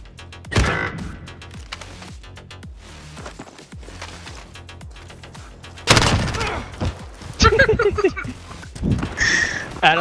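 Gunfire in Call of Duty Modern Warfare multiplayer: scattered loud shots and bursts, with a dense cluster of close firing in the second half, under intermittent excited talk.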